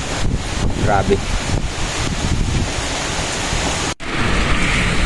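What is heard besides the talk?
strong typhoon wind hitting plants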